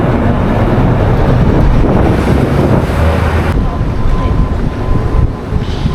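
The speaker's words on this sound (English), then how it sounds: "So windy, too much wind" Strong wind blasts across the microphone in a loud, continuous roar, gusting harder in the middle before easing slightly.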